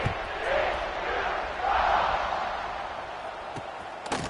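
A football stadium crowd buzzes after a score, a broad murmur of cheering that swells and eases over a few seconds, with a commentator's voice faintly in the mix.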